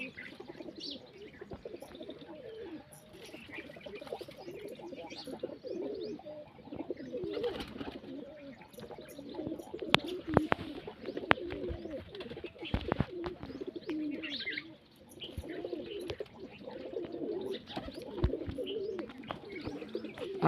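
Pigeons coo steadily over a constant background murmur, with soft repeated low calls and occasional chirps and flutters nearby.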